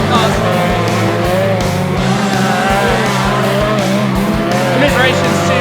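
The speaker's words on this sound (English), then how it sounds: "Fantastic racing from the Formula 2 Outlaws stock cars" Formula 2 Outlaws stock cars race at Grimley Raceway, with loud, steady engine roar, tyre squeal and skidding throughout, and a commentator talking over the noise.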